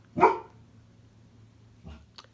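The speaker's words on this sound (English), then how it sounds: "that's my dog barking" A single sharp dog bark nearby, followed after a pause by a softer, shorter bark.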